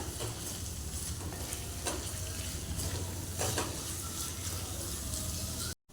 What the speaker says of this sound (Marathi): आता हे परतून घेऊया आपण अगदी कांदा आपला गुलाबी रंगावर होईपर्यंत छान परतूया